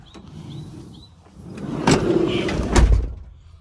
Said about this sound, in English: and there it goes. Door's closed.